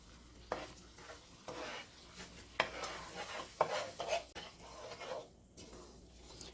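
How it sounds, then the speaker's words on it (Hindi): Semolina (suji) dry-roasting in a pan over medium-low heat for halwa, stirred with a spoon: soft scraping and gritty rustling strokes with occasional sharper clicks of utensil on pan, close and fairly quiet, no voices. "अब हम सूजी को अच्छे से भुनेंगे, और मीडियम लो पे रखेंगे हम इसको"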